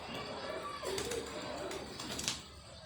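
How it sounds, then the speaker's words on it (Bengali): Pet pigeons give soft, low cooing calls in a few short phrases, fairly quiet against a steady background hiss, with faint voices in the surroundings. "খুব শখের কবুতর রে ভাই।"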